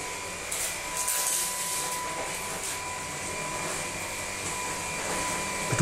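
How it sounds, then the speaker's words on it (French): A Dreame T10 cordless vacuum cleaner runs at its lowest speed setting while sucking up spilled coffee, giving a steady, moderate whir with a constant high tone and brief surges of hiss. "Et on va utiliser l'aspirateur."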